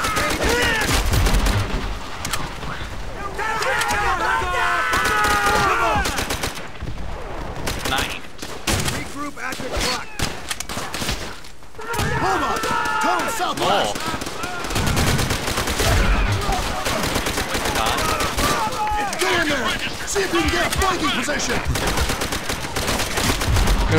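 Repeated rifle shots and scattered bursts of gunfire crack through a Call of Duty: World at War battle, mixed with game voices and players talking over the action.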